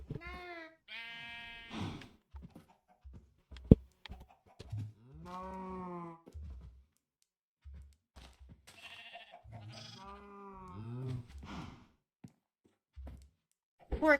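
A Highland cow in Minecraft moos several times in long, drawn-out calls with short pauses, close and fairly loud, plus a brief click partway through.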